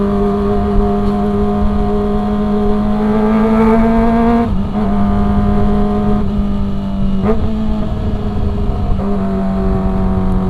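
A Kawasaki ZX-25R motorcycle revs hard and loud and alone, with its high-pitched engine note climbing steadily. Brief dips near 4.5 and 7.3 seconds mark quick-shift gear changes before the pitch builds again.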